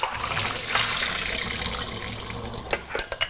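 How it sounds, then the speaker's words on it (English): Water draining from two cups of soaked raw cashew nuts in a kitchen sink, a steady rushing pour that thins into a few separate splashes and drips at the end. "I have 2 cups of raw cashew nuts right here soaking in water. So I'm going to drain these now."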